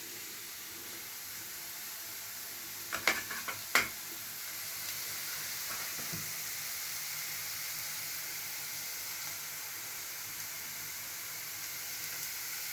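A steady, soft sizzle of egg frying with potato in a pan, a broad hiss throughout, with a few clicks and taps of a utensil early on.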